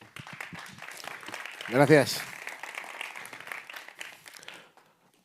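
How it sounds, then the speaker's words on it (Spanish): Applause from a conference audience at a WordPress event, a brief burst of clapping under and around a speaker's voice, which continues talking once the clapping fades. "Así que un fuerte aplauso"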